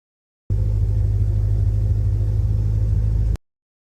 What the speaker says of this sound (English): I am going to punch up the sound of the engine idling, because I do not know any old vehicle that quiet.